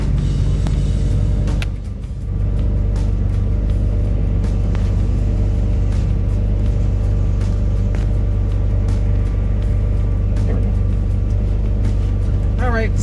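A Lamborghini driving toward a dealership, its engine and road rumble a steady loud drone throughout, briefly dipping once, with no voices.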